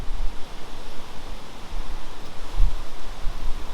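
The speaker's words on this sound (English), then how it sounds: "As the wind picks up, I'm really sorry" Strong wind buffets and roars in uneven gusts, loud and close, with no other sounds standing out.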